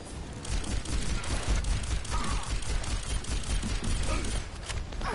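Rapid gunfire in the game Overwatch, a dense run of shots at moderate loudness that carries on for several seconds with no talking over it.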